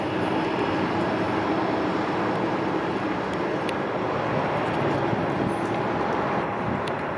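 Amtrak Pacific Surfliner passenger train passing close by, a loud, steady broadband rumble of wheels and rolling stock that holds without a break throughout, with no horn sounding.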